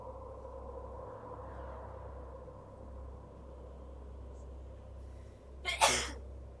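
A single sharp sneeze bursts out near the end, over a steady low hum and faint room noise during a tabletop role-playing game session.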